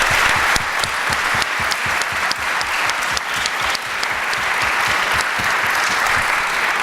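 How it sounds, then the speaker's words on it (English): Sustained applause from an audience at a CannaBusiness event, many hands clapping in a thick, even roar that holds at full strength throughout. "So, I'd like to give them a round of applause."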